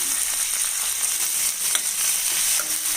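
Tomatoes sizzle steadily in a hot pan with asafoetida powder, with a continuous crackling hiss and occasional soft stirring scrapes.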